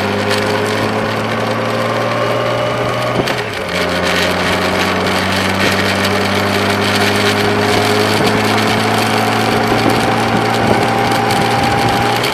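A small boat engine on a lake drones steadily and loudly throughout, its pitch shifting once early on before settling into a constant hum.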